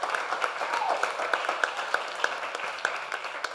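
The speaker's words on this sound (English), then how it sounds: "Yes, and our clap it up, clap it up." Audience applause at a real estate masterclass session in Orlando, a moderate, steady patter of many hands clapping heard from some distance, with a few sharper individual claps.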